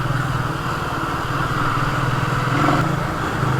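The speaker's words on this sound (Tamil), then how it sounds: "அந்த ஒரு எக்ஸாஸ்ட் நோட்டே பார்த்தீங்கன்னா கொஞ்சம் ரொம்பவே கொஞ்சம் சூப்பராக பேஸியாக இருக்குது" A 2020 Royal Enfield Meteor 350 motorcycle engine runs steadily with a deep, bassy exhaust note, a continuous low thrum at moderate loudness with no voices.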